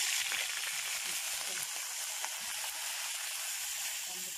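Vinegar hits a hot pan of oil, bursting into a loud, continuous sizzle and frying hiss that stays steady for several seconds, close up.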